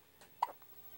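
A baby girl hiccups once, a short sharp squeak standing out clearly against a quiet room, with faint softer sounds around it.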